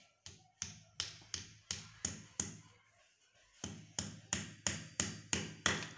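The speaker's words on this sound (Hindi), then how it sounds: "तो अब हम इसके अंदर ये प्लास्टिक की गट्टी ठोकेंगे" Sharp hammer blows drive a plastic wall anchor into a drilled hole in a wall, a steady run of close, loud taps with a brief pause midway before the strikes resume.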